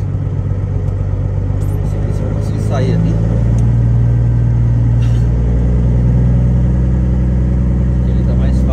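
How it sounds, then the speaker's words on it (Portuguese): A truck engine runs steadily while driving, a loud low drone with a rougher mid-range growl that rises slightly partway through; someone speaks briefly over it. "Capaz de vocês ouvirem bastante o áudio do motor."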